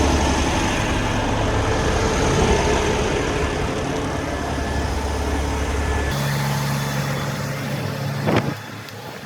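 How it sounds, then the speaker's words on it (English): A Freightliner truck engine rumbles steadily up close with road noise, the low drone dropping in pitch partway through and briefly swelling before cutting off near the end; no talk. "look at that truck over there"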